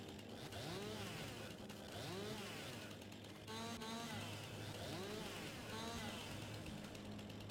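A chainsaw cuts trees in the forestry game Farming Simulator 22, the engine revving up and down in repeated rising and falling sweeps, loud and close, with no speech over it.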